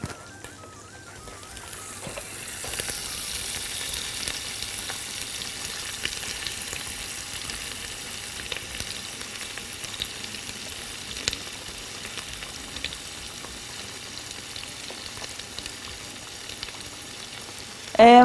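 Minced garlic frying in a pan, a steady, moderately quiet sizzle that holds for a long stretch after a soft start and ends with a brief clatter.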